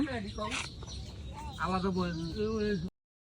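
Clucking of a hen mixed with faint cheeping from chicks, heard close by under ongoing conversation.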